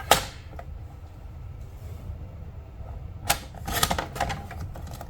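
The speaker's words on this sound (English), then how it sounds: "I'm gonna pop them into the paper trimmer and just trim the length a little bit closer to the greeting" Paper trimmer slicing through stamped paper treat-bag tags, sharp close swishing cuts at the start and a quick cluster of strokes later, with quiet pauses between.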